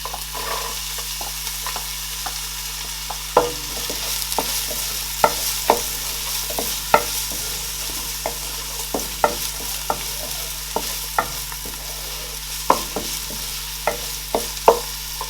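Onions frying in hot oil in a pot give a soft continuous sizzle, marked by frequent sharp clicks and taps of a stirring spoon against the pot, near and fairly quiet, with no speech.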